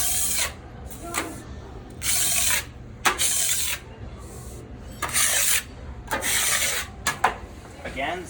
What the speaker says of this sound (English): You want to scrape a good bit of it off.